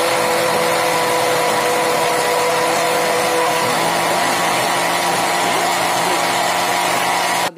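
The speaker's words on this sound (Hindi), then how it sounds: "और 1 नींबू को हम इसमें निचोड़ देंगे और फिर इसे अच्छे से करेंगे ब्लेंड।" A kitchen blender whirs continuously, loud and steady, churning a banana, dry fruit and yogurt lassi with squeezed lemon, then cuts off abruptly at the very end.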